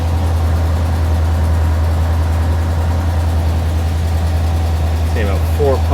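A cold-started 1966 Ford Galaxie with a 7 litre V8 idles steadily, giving a loud, deep, constant rumble throughout, with a voice briefly heard near the end.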